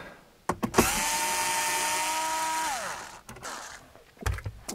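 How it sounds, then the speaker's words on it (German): Electric power tool whirring steadily for about two seconds while backing out one of four car radio mounting screws, pitch dropping as it winds down, with short clicks and handling noise before and after. "Und dann sehen wir jetzt hier die vier Schrauben vom Radio. Die müssen wir auch demontieren."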